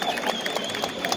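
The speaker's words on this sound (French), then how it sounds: "donc on peut l'applaudir" Audience applauding the secretary of a French freestyle street workout federation at a Paris competition final, a short burst of crowd clapping with some voices mixed in.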